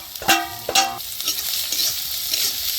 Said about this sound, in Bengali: সবকিছু এখন হালকা করে ভেজে নিব।